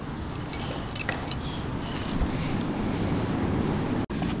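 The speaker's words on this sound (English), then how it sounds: "Manny put the bathroom keys on his collar" Bathroom keys clinking on a moving dog's collar inside a car wrap shop, a few light jangles early on, then a steady background hum with a brief dropout near the end.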